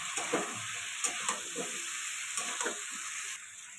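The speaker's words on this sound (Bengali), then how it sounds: "এবার পটলগুলো দিয়ে দেবো, দিয়ে এটা ভালো করে কষাবো।" Fried pointed gourd, prawns and potato sautéing in a pan, a steady close sizzle broken by several soft scraping stirs, with no voices.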